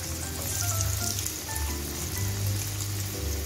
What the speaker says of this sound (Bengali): অল্প অল্প করে ভেজে নিচ্ছি।